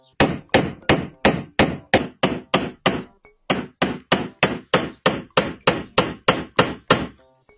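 A hammer strikes a letter punch into a metal ingot, about two dozen sharp, ringing blows in a fast, steady rhythm with one brief pause, loud and close, with no talking.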